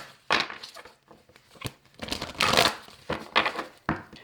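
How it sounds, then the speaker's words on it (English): Tarot cards being shuffled by hand in a few quick bursts of papery riffling and slapping, close and fairly quiet, with short pauses between bursts and no talking. "Let me shuffle these real fast."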